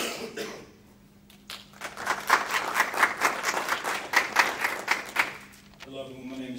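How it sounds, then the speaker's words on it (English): An audience claps for Mr. Turner at a public panel event, a broad steady round of applause that swells, holds for several seconds and then fades as a voice begins. "Mr. Turner, give a round of applause."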